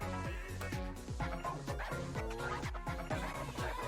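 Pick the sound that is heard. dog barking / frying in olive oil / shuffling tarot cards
dog barking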